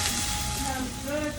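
Ginger and green onions sizzle in hot oil while a ginger scallion steamed chicken is made, giving a steady, close, continuous crackling hiss with faint talk in the background.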